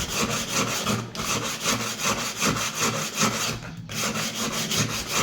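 Rhythmic back-and-forth scraping of hand sanding on a gas stove part, steady strokes repeating about once per second, close and alone.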